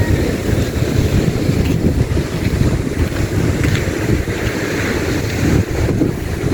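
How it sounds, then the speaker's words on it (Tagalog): Continuous rushing, churning noise of ocean waves crashing with heavy wind buffeting, loud and close, no voices. "Naririnig ko na po yung hampas ng alon"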